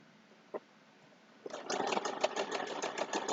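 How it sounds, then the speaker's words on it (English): A sewing machine starts up after a quiet moment and a single click, then runs at a steady, rapid rattle while stitching a two-fabric potholder, close and alone. "So I'm going to sew at the speed I would normally sew at"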